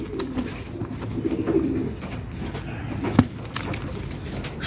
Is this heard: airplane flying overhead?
no